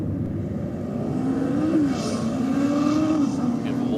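Diesel vehicle on a drag strip run at Sydney Dragway, its engine droning loud and steady with a rising, wavering pitch as it pulls hard down the track.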